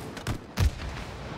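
Two quick shots in It Takes Two gameplay, a lighter pop followed by a heavier thump about a quarter second later, over a low steady game background.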